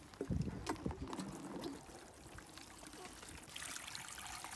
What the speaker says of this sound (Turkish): Üzerine suyu döküyoruz.